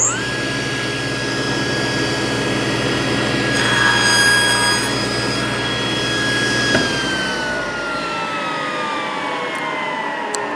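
A table saw blade slices through a wooden board guided by a miter gauge, a loud steady whine with a rising pitch during the cut, then the motor cuts off near the end and the blade tone winds down.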